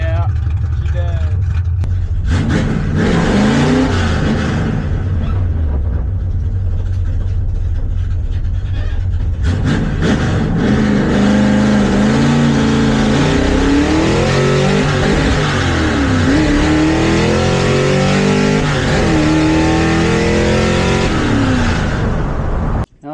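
A 1971 Plymouth Satellite drag car's engine revs hard through repeated rising and falling throttle blips, loud and close. A steadier idle sits between the bursts, and a voice talks over it.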